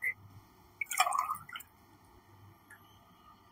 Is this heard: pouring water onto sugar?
yes